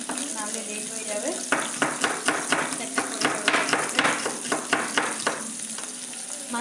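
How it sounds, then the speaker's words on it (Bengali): Rohu fish fries in a pan with a steady close sizzle, crossed by a run of rapid rhythmic knocks and chopping taps from nearby kitchen work. "ওদিকে মাছটা ভাজা চলছে"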